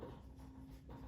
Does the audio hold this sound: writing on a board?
yes